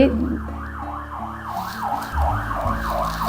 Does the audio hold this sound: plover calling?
no